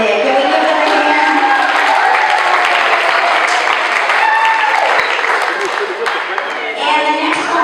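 Loud, sustained clapping from a crowd at an elementary school family fun night, with some cheering and chatter mixed in and a host's voice occasionally over it.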